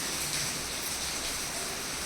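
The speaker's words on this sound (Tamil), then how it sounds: "காலையிலேருந்து மழை லைட்டாக தூரிட்டு இருந்துச்சு இப்போ ஜாஸ்தி வந்துட்டுருக்கு" Rain falling heavily outdoors, a faint steady broadband hiss of drops with no distinct individual impacts, no talk.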